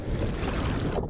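Large storm waves crash and churn at sea as wind buffets the microphone, a loud, continuous rough wash that cuts off abruptly at the end.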